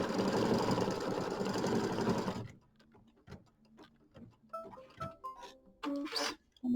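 A sewing machine stitching red thread down on a quilt applique piece runs loud and steady for about two seconds, then stops, leaving small handling clicks and thread-trimming noises close by.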